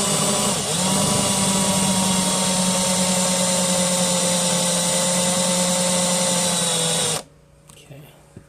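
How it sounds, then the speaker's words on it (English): Power drill with a combined drill and tap bit boring into aluminum while a vintage Santa Fe travel trailer's door latch is replaced, a loud continuous whine held steady for about seven seconds, then stopping abruptly into near quiet. "On this aluminum should be pretty easy. Take it nice and slow after the drill bites in."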